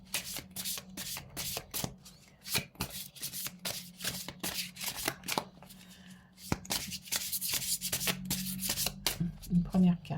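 Oracle cards being shuffled by hand, a fast series of crisp riffling bursts and flicks repeating over ten seconds at close range, with a soft voice now and then.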